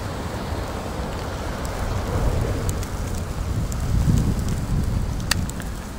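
Wind gusts through a night snowstorm out by a street lamp in front of a house at about -20F, a steady broadband roar that swells and eases, with a brief sharp tick near the end.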